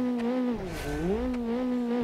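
Small car accelerating in BeamNG.drive, a steady engine drone that dips briefly in pitch and then climbs again, loud and close.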